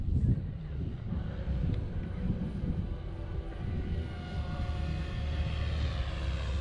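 An OMPHOBBY M4 MAX RC helicopter flying outdoors in wind makes a steady rotor and motor drone with a faint whine, mixed with gusty wind buffeting the microphone and no talking.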